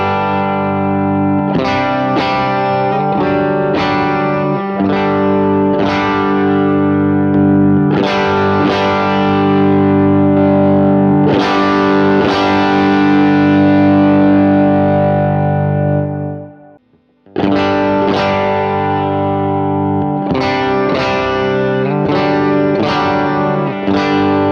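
Distorted electric guitar running through a Pinstripe Pedals effects chain with no buffer, played alone as repeated strummed chords and sustained notes with a brief gap near the end before the riff resumes.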